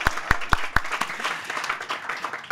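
Audience clapping at a university senior awards ceremony, starting with a few sharp distinct claps that blend into brief, moderate applause.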